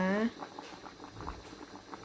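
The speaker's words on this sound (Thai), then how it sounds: "เสร็จแล้วนะคะสุกแล้วเดือดแล้วนะจ๊ะ" Massaman curry with chicken drumsticks bubbling in a pot, a soft, steady patter of small pops and simmering gurgles, close and fairly quiet, after a brief tonal sound at the very start.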